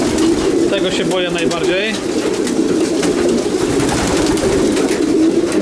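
Young pigeons coo and call close by in a loft, soft warbling notes over a constant rushing background, while someone talks in Polish.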